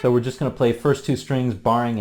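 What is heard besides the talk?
No distinct noise like a dog, phone or traffic.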